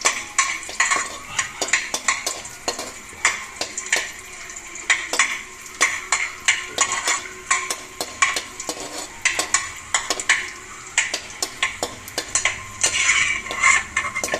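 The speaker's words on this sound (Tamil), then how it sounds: "அடுத்து திராட்சையை போடுங்க, அதையும் நல்லா வறுத்துடுங்க" Raisins fry in a heavy-bottomed pan for rava laddu. A spatula clinks and scrapes in a quick, steady rhythm over a continuous close sizzle, with no speech.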